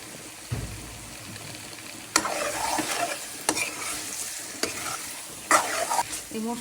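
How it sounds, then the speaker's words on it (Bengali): Chicken being sautéed with ground coriander, cumin, turmeric and chilli spices in a pan, a steady sizzle punctuated by several sharp scrapes and stirs of the spoon, close and fairly loud with no talk. "এই মশলার সাথে আমি একবারে কষিয়ে নেব।"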